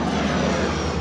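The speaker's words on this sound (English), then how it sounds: "That's a plane, forgive me." An airplane passes overhead outdoors during a walkaround of a pickup truck, producing a steady, broad engine roar that stays constant through the short stretch.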